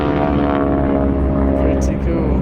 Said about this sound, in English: I got 6 planes with the pyros going down the runway, flying around